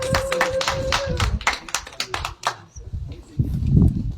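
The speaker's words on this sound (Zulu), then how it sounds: "Ake shaye ihlombe umndeni" At a family gathering where a refrigerator is presented as a gift, several people clap their hands in a quick burst, then the clapping thins out and fades near the end amid background noise.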